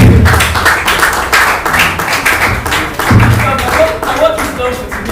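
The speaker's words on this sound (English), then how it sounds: "A round of applause." An audience at an architecture fireside chat breaks into applause, a dense wash of clapping and tapping that carries on for several seconds under a speaking voice.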